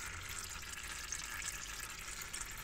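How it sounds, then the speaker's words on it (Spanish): Engine oil pours out of a PGO Bugrider 250 buggy engine during a rebuild, a continuous close trickling hiss with no pauses or voices. "ahí está cayendo ya el aceite"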